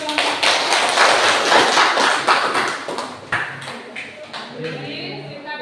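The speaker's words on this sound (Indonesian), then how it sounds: "berikan tepuk tangan untuk kelompok" Classroom audience clapping for a student group that has just finished presenting, a dense burst of many hands that thins out toward the end, with some talk mixed in.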